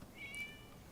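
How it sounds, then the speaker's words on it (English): A cat in the game Genshin Impact gives one brief, faint, high meow against quiet ambient game background. "Oh, it's a cat. It was just a cat."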